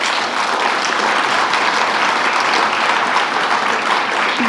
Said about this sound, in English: let's give all of these folks a round of applause.